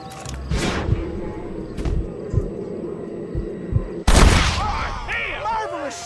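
Gunfire in the Western video game Red Dead Redemption, several sharp shots scattered among game music and effects, then a loud blast near the end, with characters talking.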